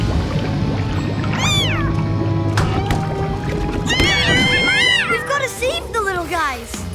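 Several high, wavering cartoon kitten meows sound over a busy background of music and water noise, with voices nearby.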